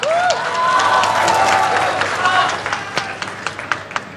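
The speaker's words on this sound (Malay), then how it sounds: "Kita berikan tepukan bergemuruh untuk giat mara." An audience at a community TVET forum in Bertam claps and cheers, a dense burst of applause that thins into scattered claps, with a voice briefly heard over the crowd.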